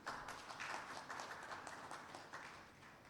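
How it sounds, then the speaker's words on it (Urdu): Audience applause at a Thalassemia Week launch event, a steady wash of many hands clapping across the whole stretch at moderate loudness, with no talk over it. "تو ان سب لوگوں کے لیے ایک بھرپور تالی ہونی چاہیے۔"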